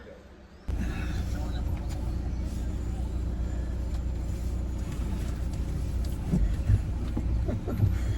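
Car on the move in the evening, a steady low engine and road rumble that starts abruptly after a quiet moment and then holds at an even level, heard from inside the vehicle.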